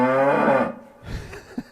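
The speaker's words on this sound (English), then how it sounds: "I know where to go for my cow sound effects" A cow moos once, a long loud bellow with rich harmonics lasting most of a second, followed by brief low thumps and rustling close by.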